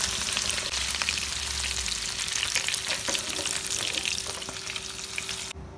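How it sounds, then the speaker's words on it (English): Prawns fry steadily in hot oil in a pan, giving a continuous close sizzle with occasional scraping stir clicks. The frying sound runs alone with no talking and cuts off abruptly at the end. "That's how we need to fry the prawns"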